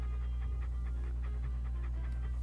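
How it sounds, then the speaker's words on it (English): A dog pants with quick, rhythmic breaths in the adventure game Monkey Island 2: LeChuck's Revenge Special Edition, audible at moderate level over a constant low hum and music bed. "What a ferocious-looking dog."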